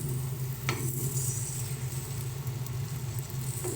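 Beaten sour yogurt is stirred into shrimp spice paste frying in oil in a pan, giving a steady close sizzle with a low hum beneath and occasional scraping of the spoon.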